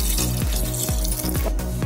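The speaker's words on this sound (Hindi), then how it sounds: "पानी ज़्यादा डालिए अगर आपको ज़्यादा ग्रेवी बनाना है तो आप पानी ज़्यादा डालिए" Water pours into a spicy taro root curry gravy cooking in a pan, a steady close liquid rush with repeated low thumps, loud and alone without talk.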